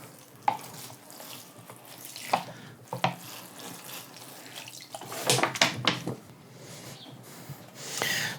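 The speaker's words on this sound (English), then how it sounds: "once we've gave it a good watering" Water poured over soil in a pot where pineapple tops will be planted, a running, splashing trickle with gurgles and a few sharp knocks, rising in a fuller gush toward the end, nearby and steady.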